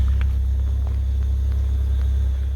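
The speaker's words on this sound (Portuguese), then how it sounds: "O carro tá precisando ver umas rotação mais alta pra" A Fiat Palio engine with a badly damaged exhaust runs up at higher RPM, a loud, steady, deep rumble close by with no talk.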